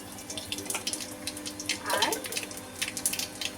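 Black cumin seeds hit hot oil in a pan, giving a bright hissing crackle with a sharper surge in the middle, up close and fairly quiet.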